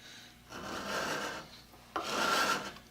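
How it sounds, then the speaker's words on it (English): A file rasps across the steel blade of a Stanley scraper plane in two close, distinct strokes, each a gritty scraping burst separated by a brief pause, with no voices. "Filing"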